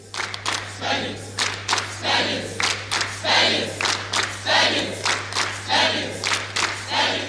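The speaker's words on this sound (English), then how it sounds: "A round of applause, please." Rhythmic bursts of a spelling competition audience rise and fall in repeated waves, like a chanting, clapping crowd cheering in unison, with a steady low hum underneath.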